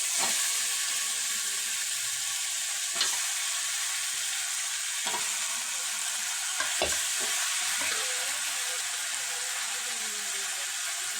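Steady frying sizzle of chicken with intermittent scraping and clinks of a utensil stirring it in a pan, continuous and close.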